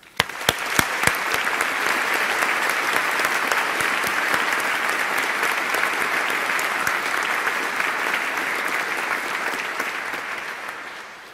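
Sustained audience applause fills a hall at a University of Edinburgh winter graduation ceremony, dense clapping from a large crowd holding steady for about eleven seconds before tapering off.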